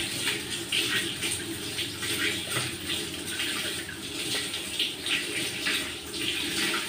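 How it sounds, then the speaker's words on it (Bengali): Water runs steadily from a tap as a gas stove is washed and scrubbed with a Vim dishwashing bar, a continuous close splashing hiss with faint rubbing and knocks and no speech. "গ্যাসটাকে এখন আমি ভালো করে ধুয়ে নেব।"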